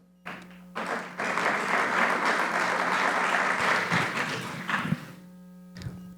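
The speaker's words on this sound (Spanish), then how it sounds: "Por favor, un fuerte aplauso." An audience at a sustainable 3D printing and STEAM education conference welcomes a biomedical engineer to the stage with warm applause that swells quickly, holds steady and then fades out over a low electrical hum, with a few stray claps after.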